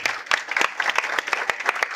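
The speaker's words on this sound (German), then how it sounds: "Dann nochmal einen Applaus" A live-event audience breaks into applause, a dense crowd of clapping hands heard close and loud, with individual sharp claps standing out.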